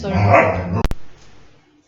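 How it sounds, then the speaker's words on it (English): A dog in a newly moved-into house lets out a loud, close bark that fills the first part of the moment, followed by two sharp clicks and fading quiet. "my dog is just, we moved in a new house, and she's reacting to every weird noise"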